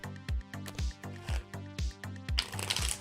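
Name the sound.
tarot cards being shuffled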